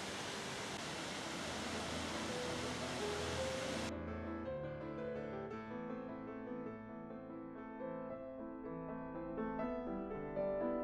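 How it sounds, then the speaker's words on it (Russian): Small waterfall on the Guadalevín river in Ronda, a steady broadband rush of falling water at moderate distance, continuous and unchanging, heard alone without talk. "Так, маленький водопадик и небольшой прудик."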